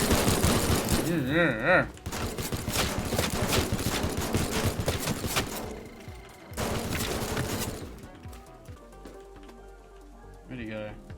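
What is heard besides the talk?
gunfire in video game Teardown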